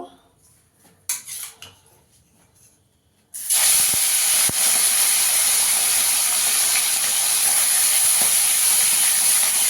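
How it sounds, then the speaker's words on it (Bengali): Fish hits hot oil with a sudden, loud hiss that turns into a steady, close sizzle, after a few quiet clinks of pans and utensils at the start. "এখানে আমি তেল বসিয়েছি, তেলটা ভালো করে গরম হয়ে গেছে, মাছগুলোকে ভেজে নেব"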